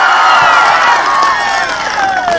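A large crowd of women at a political gathering cheers and shouts loudly and close by, long drawn-out voices rising and falling together in a dense, continuous wash.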